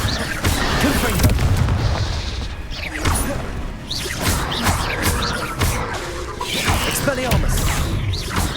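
Confringo spells burst in Hogwarts Legacy combat, a series of heavy booms and crashing impacts spaced a few seconds apart, with magical whooshes and clattering effects filling the gaps between blasts.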